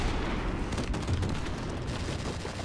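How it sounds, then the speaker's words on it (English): Dense barrage of airstrike explosions in Call of Duty Modern Warfare Remastered, a continuous loud rumble of booms and crackling blasts layered with gunfire, with no pause throughout. "Oh no, there's airstrikes!"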